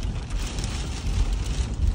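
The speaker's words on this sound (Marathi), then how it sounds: "तुम्हाला पाऊस दाखवते" Steady rain falling outdoors in a hilly area, a dense, even hiss with a low rumble underneath, with no voices.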